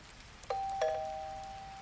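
A doorbell rings twice in quick succession, two clear bright chimes whose tones linger and slowly decay, alone in a quiet room.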